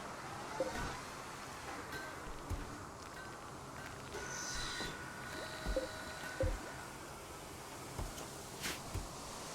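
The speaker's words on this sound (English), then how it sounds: "you can hear all the lovely sounds of wall repair" Wall repair in RimWorld, with scattered soft knocks and dull thumps over a steady low ambient bed, a few sharper hits recurring irregularly and a faint brief tone partway through.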